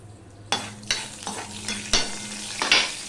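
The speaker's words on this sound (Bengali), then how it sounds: "দেখো দিয়ে দিলাম একটুখানি পাঁচফোড়ন হাফ চামচেরও কম হবে পাঁচফোড়ন দিয়ে দিলাম" Panch phoron spices sizzle in hot oil in a pan, a close, steady crackling fry broken by several sharp clinks of a spoon stirring, with no voices.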